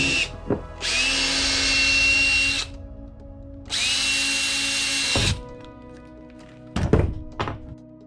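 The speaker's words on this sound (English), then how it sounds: "Those 2 holes that I just drilled out" An electric drill boring holes with an 11/32 bit whirs in two sustained bursts of a couple of seconds each, with rising pitch and close, loud motor whine, separated and followed by sharp thunks and knocks of the tool and workpiece.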